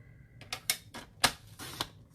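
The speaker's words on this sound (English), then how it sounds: "so that's all for the paper trimmer" A paper trimmer slicing card paper for a handmade card makes a quick series of five or six sharp, close clicks and scrapes in a quiet room.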